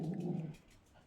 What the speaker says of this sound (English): My puppy going crazy at whatever's outside